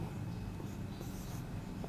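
Writing notes by hand with a pen on paper, giving soft continuous scratching strokes, faint and close in a quiet room.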